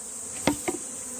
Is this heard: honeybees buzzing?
yes